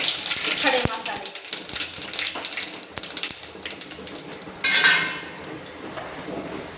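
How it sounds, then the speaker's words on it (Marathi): Whole spices go into a cooking pot amid clattering metal, with a sharp clink early on, scattered taps and rattles, and a brief burst of sizzle partway through, all close and fairly loud. "खडे मसाला टाकून झाले,"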